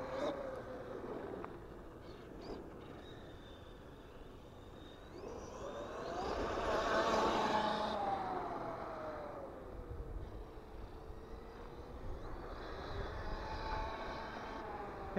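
An Arrma Outcast EXB RC car motor whines up in a rising, then falling surge on a brief touch of throttle, fairly distant against outdoor background noise, with a second fainter whine later.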